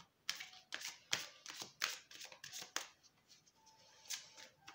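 A deck of oracle cards is shuffled and drawn by hand, giving a quick run of soft riffling flicks and taps. The sound is close and quiet, followed by a few lighter card slides.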